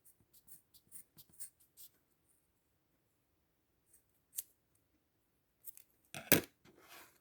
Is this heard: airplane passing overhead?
no